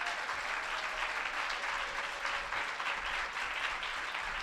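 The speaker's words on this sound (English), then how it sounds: "How about a round of applause for them?" A large audience at the White House Forum on Women and the Economy applauds a panel, producing a dense, steady wash of clapping that stays even and full for the whole stretch, with no voices over it.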